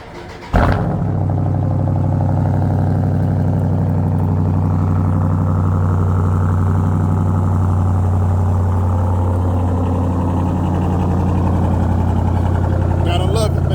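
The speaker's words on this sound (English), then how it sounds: "let me do the cold start of the" A Dodge Magnum SRT8 with a Hemi V8 fires up from a cold start, a sharp catch followed by a loud, deep, steady idle rumble that holds for over twelve seconds.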